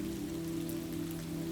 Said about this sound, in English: she could hear the gentle pattering of the rain on the roof above, a lulling rhythm that called her to rest